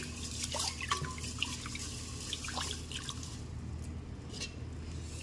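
Rice is washed in water, giving soft close-up sloshing, dripping and squishy swishing sounds over a low steady hum, with scattered brief splashes.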